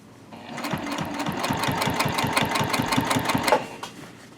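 A sewing machine stitches a zip top tote bag in a fast, even run of mechanical clatter lasting a few seconds, close and clear, then slows and stops.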